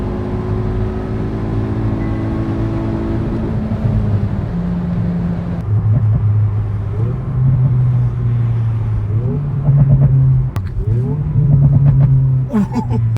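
A Hyundai i20N idles with a steady low drone, then the engine and exhaust rev in repeated rising blips, each pull climbing and falling back, loud and close as if heard from inside the car.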